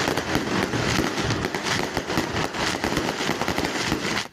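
Dense bursts of fireworks and flares crackle and bang at a nighttime street wake in Pudahuel, Chile, a continuous barrage of pops with no pauses.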